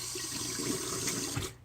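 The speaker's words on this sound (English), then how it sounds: "Rinse the razor off." Water from a tap runs steadily over a vintage 1955 Gillette Red Tip safety razor as it is rinsed at the sink, a close, continuous splashing rush that cuts off at the end.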